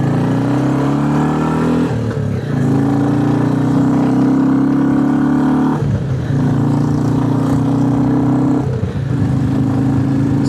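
A Royal Enfield Classic 350 motorcycle engine droning steadily while riding at night, its pitch stepping down at regular gear changes, loud and close throughout.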